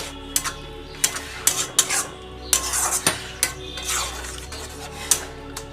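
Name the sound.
stirring and sautéing paneer in palak gravy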